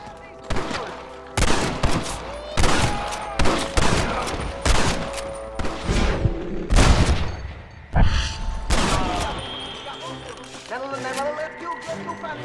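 Rapid gunfire in Red Dead Redemption: loud, close volleys of rifle and pistol shots crack in irregular bursts, sometimes overlapping, with voices shouting among the shooting.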